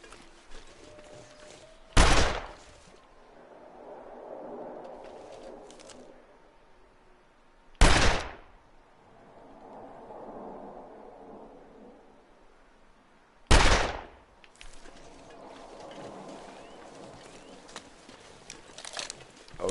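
Three loud, sharp gunshots ring out at even spacing of roughly six seconds in The Long Dark survival game, each followed by a quiet ambient stretch of wind and muffled rumble.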